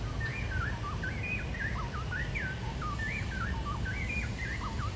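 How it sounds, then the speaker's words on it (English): Outdoors a bird calls excitedly, a rapid stream of short rising and falling chirps and whistled notes repeating without pause over a soft background rumble. "There's a bird going crazy right now."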